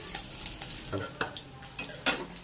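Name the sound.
jute leaves frying in mustard oil with garlic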